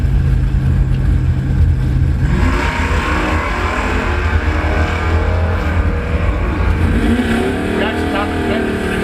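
Drag racing cars, including a Mercury Capri, launch at a motorsports park during a Labor Day bracket race, their engines roaring loud and close as they rev and accelerate. An announcer talks over the noise.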